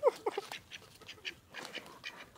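A pet duck gives a few quick, fairly quiet quacks close by, followed by softer scattered calls.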